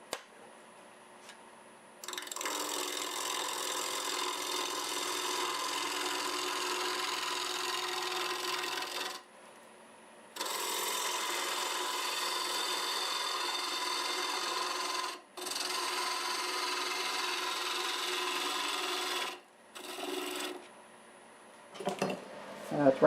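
Maple burl being turned round on a wood lathe at about 1350 RPM, a steady loud rasping scrape of the tool cutting in long continuous passes, broken by brief pauses between cuts.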